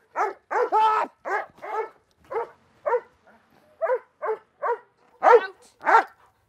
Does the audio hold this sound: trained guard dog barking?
yes